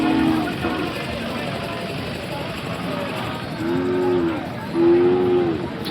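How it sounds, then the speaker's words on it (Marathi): Large bulls lowing at a Sangola Khillar bull market, three drawn-out moos at moderate distance over a steady crowd and traffic din, with voices talking in the background. "बघा दोन्ही पण मोठ्या मापाची बैल आहेत"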